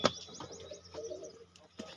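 Soft, low cooing from pigeons nearby, with faint chirps and a brief flutter at the start, fairly quiet overall.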